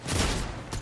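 A quick, loud volley of gunshots in the Resident Evil Raccoon City game, a short burst of overlapping shots with a second smaller hit right after.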